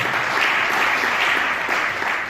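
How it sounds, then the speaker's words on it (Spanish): A church congregation gives loud applause for Jesus during a sermon, a steady wash of clapping filling the short stretch without a break. "Alguien da un aplauso fuerte a Jesús"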